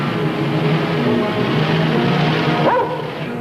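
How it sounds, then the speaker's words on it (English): A hunting dog yips and barks amid a droning background hum; one sharp bark stands out near the end. "The other man had a hunting dog."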